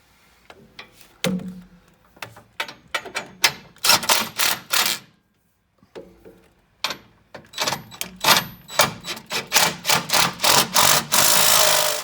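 Bolts on an evap canister relocation kit are tightened down with a ratchet, giving rapid bursts of sharp metallic clicks in quick rhythmic runs separated by short pauses, close and fairly loud, with no talk.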